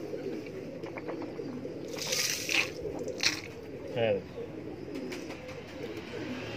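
Pigeons coo softly in a handful of short calls against steady background noise, with someone talking quietly nearby as he handles the birds.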